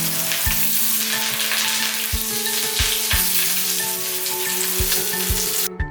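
Pieces of large pomfret fish fry in hot oil with curry leaves, giving a dense continuous sizzle with crackling pops and occasional louder spits, close up and with no voices.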